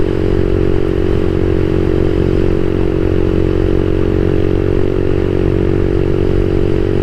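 A CSC SG250 motorcycle fitted with a brand-new MotoCult Stage 4 engine cruises at steady revs around 5,500 rpm, its loud, even engine drone running close and unbroken beneath heavy wind noise.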